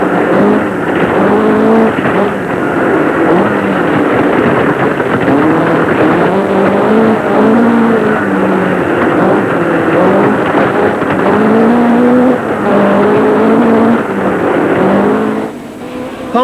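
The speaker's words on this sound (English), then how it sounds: "So it's on again through the Yorkshire stages, as seen from the dealer team Vauxhall Chevette, with Tony Pond at the wheel." A dealer team Vauxhall Chevette rally car drives a muddy Yorkshire forest stage of the RAC Rally, its engine droning loudly and steadily throughout with rising and falling revs, heavy wind rush over the microphone, and no talk.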